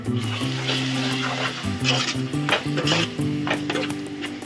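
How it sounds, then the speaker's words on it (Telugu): Onions with ginger and garlic fry in a pan for a stuffed brinjal curry, a steady close sizzle under scraping and stirring clatter, with a tonal hum running beneath and no talk. "అల్లం వెల్లిపాయ పచ్చివాసన పోయేదాకా వేగనిద్దామండి"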